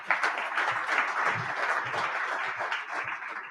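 Audience applause for a company leader at a state service symposium, a full, sustained wash of many hands clapping, steady and fairly loud throughout.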